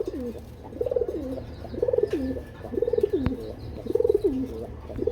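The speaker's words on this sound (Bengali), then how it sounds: "আরেক জোড়া কবুতর" Pigeons coo in a steady repeating pattern at a pigeon market, several rolling calls in a row, close and clear over a soft background hum.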